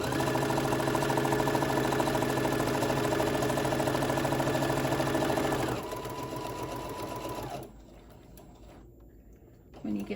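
A sewing machine stitches across tote bag fabric in a fast, steady mechanical whir for several seconds, then stops, leaving quieter handling noise.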